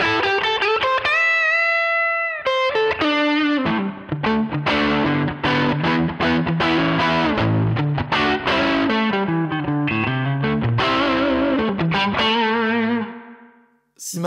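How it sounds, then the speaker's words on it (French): A distorted electric guitar plays a blues phrase through a Line 6 Pod Express, with a gritty overdriven tone from the first distortion setting, alone and loud throughout, mixing held bends, quick licks and chords before the final note cuts off. "on monte un peu la distorsion, hop, la première par exemple, et on se retrouve avec un son blues qui déchire"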